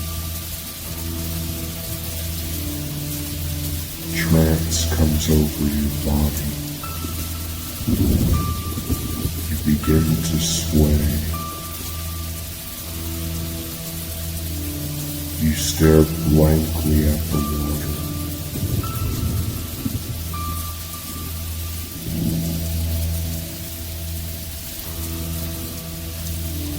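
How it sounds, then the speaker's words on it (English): Steady rain patters on the surface of a glowing blue pond, a constant soft hiss beneath a calm narrating voice with a low musical drone throughout. "The rain tapping on the surface of the water soothes"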